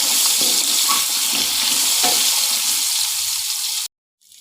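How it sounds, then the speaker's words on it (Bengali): Potatoes and raw banana frying in oil in a pan for shukto, a loud continuous close sizzle with a few stirring clinks, cutting off abruptly near the end. "প্রথমে আলু এবং কাঁচা কলাগুলোকে ভালো করে ভেজে নেব"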